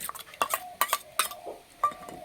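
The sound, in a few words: spooning ingredients into a small pot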